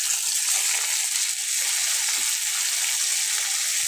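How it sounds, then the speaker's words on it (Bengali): Home-caught pond fish sizzle in hot oil in a pan after being fried on both sides, a steady, dense crackling hiss that runs without a break and stays close and fairly loud. "মাছ আমার দু সাইড ভাজা হয়ে গেছে, এখন আমি নামাই নেব।"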